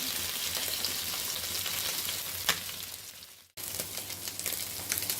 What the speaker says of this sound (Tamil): நாக்கு மீன் தான் வறுக்கேன்